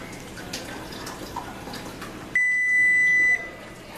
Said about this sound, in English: Once the timer goes off